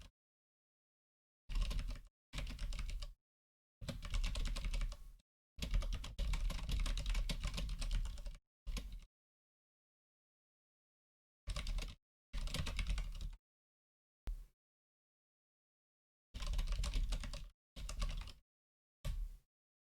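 Computer keyboard typing close to the mic during a podcast livestream, coming in several separate bursts of rapid key clatter with silent gaps between them, no voices.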